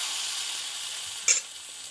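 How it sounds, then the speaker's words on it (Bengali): Batter sizzling steadily in a lightly oiled pan, a soft continuous hiss with one brief louder crackle partway through, no voices. "এখানে আবারও আমি এক হাতা মতো বেটার দিয়ে দেবো"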